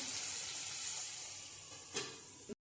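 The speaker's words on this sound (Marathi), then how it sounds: "कुंकोड्याबरोबरच कांदा टाकते" Chopped onion and spiny gourd fry in a pan, giving a close, continuous hissing sizzle throughout with a brief stirring scrape near the end.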